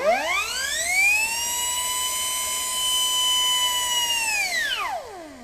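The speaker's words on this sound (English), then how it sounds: "we bought this little micro die grinder. What's nice is it's speed adjustable, so I can slowly turn the air on." An air-powered, speed-adjustable micro die grinder spins up to a piercing high whine, holds a steady pitch for about four seconds, then winds down as the air is cut. No one speaks.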